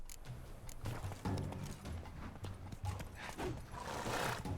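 Hooves of the horse Roach clip-clop in a steady galloping rhythm in The Witcher 3: Wild Hunt, fairly quiet and continuous with no talk over them.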